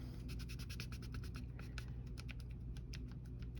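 A blade cuts through polymer clay with a rapid run of small scratchy ticks and scrapes, quiet and close over a low background hum.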